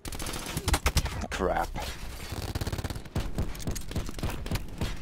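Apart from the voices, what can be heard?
gunfire in video game Call of Duty Black Ops 4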